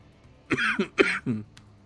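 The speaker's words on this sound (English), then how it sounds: "Oh, coughing." Two sharp, close coughs in quick succession, each followed by a short throaty catch, then quiet.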